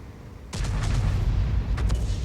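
Tank cannon shot in a ranked World of Tanks-style battle with a Conqueror Gun Carriage, a sudden loud booming blast followed by a rumbling low tail.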